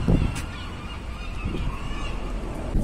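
Seagulls call outdoors in a seaside town over a noisy, windy background, their cries rough and honking, fairly close, with no talking.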